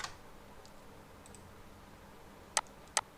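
Mouse clicks on the buy and sell buttons of a trading platform, a few faint ticks early, then two sharp, close clicks about half a second apart near the end.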